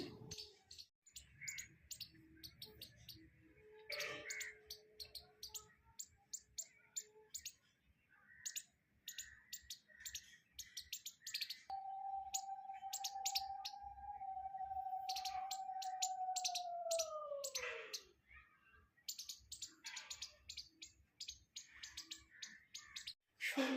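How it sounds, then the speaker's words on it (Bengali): Birds call on a morning outdoors: many sharp chirps and tweets scatter throughout, near and far, joined by a long sustained whistling note that slowly falls in pitch toward its end. The birds sound alone, with no talk. "সুন্দর একটা পাখির সাউন্ড নিয়ে কি সুন্দর ডাকছে পাখিটা দেখো"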